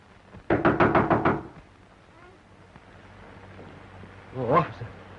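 A rapid run of about six sharp knocks on a door, close and loud, followed by quiet room tone and a brief voice near the end.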